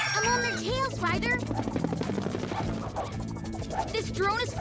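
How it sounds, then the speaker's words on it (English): A small flying drone whirs with a rotor-like chop in an animated scene, steady and fairly loud, overlaid with cartoon music and bursts of effects. "This drone is flying too wildly to catch."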